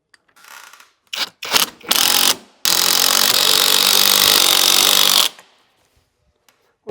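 Power tool bolting down the handlebars of a Kids Elite Racer-Pro 50cc petrol quad bike: short ratcheting bursts, then a long, loud, continuous buzzing run of about three seconds, close up, ending in silence.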